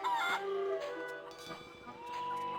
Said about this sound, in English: We got the dangerous chicken.